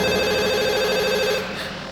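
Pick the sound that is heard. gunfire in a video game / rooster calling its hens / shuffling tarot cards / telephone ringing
telephone ringing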